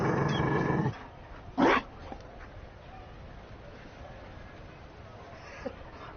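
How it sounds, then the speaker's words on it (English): A Mabari war dog in the video game Dragon Age Inquisition gives a short growl and whimper, brief close yelps amid quiet game ambience after a moment of talk. "You found a dog?"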